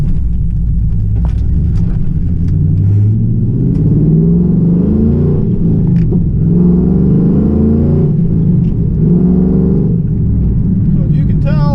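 A 2001 Pontiac Trans Am V8 rumbles steadily up close, with its deep exhaust note swelling and falling as it revs over about twelve seconds of continuous engine sound.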